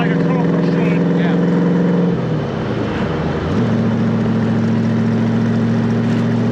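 Stroker 347 cubic inch V8 in a 1965 Factory Five Shelby Cobra replica rumbling through side pipes, a steady loud drone that dips briefly as the revs change, then settles back into a deep even burble.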